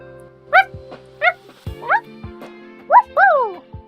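A cartoon puppy in a video game on a space station gives a string of short, high yips and barks, about five spaced-out bursts, heard close and clear against quiet game music with no talking.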